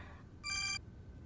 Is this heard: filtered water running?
no